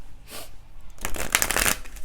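Tarot cards are shuffled close to the mic in a couple of quick, crisp riffling bursts, with no voices over them.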